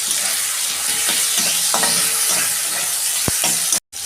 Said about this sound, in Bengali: কাঁচা লঙ্কা ওই তেলের মধ্যে দিয়ে দিচ্ছি